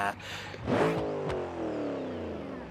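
In the BeamNG.drive video game, a supercharged big-block Chevy Impala engine revs up sharply, then settles into a falling, whining drone with a quick bark in the middle, fairly close and prominent.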